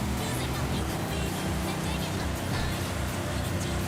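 A V8 car engine in Forza Horizon 5 rumbles loud and low through rough, continuous revving during an online race. A voice is faintly present.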